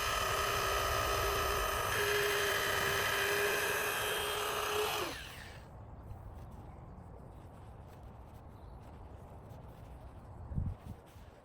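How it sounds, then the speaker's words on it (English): A rotary polisher with a firm 3-inch pad and coarse compound whirs steadily on car paintwork at close range, then abruptly stops, leaving quiet room noise and a soft knock. "Using a 3-inch firm polishing pad on a rotary mop, I loaded the test area with a coarse polishing compound."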